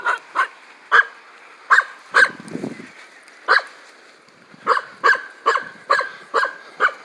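A dog barks repeatedly in a park, sharp loud yaps arriving in irregular bursts with short pauses between, plus a brief whimpering sound partway through.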